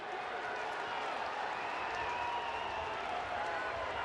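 Stadium crowd at a Phillies–Angels baseball game shouting at Bryce Harper, a dense continuous roar of many voices filling the space, loud and unbroken throughout.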